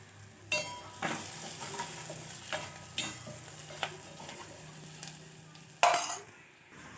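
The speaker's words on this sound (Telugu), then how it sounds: "ఇదైతే మంచిగా గోలించుకోవాలి నూనెలో" Bajji fry in hot oil with a continuous bubbling sizzle, punctuated by scattered clinks and scrapes of a metal utensil against the pan and one louder clatter near the end.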